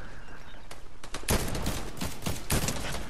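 Rapid bursts of gunfire in the video game Fortnite, loud and close, with several quick volleys in a row, mixed in with the game's steady background sound.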